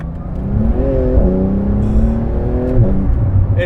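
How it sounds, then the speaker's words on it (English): A 2018 Porsche 911 GT2 RS with a titanium exhaust accelerates hard, its loud close engine note rising through the gears, with short dips at each shift. "that exhaust, it's a titanium exhaust to save weight, and it sounds pretty damn crazy"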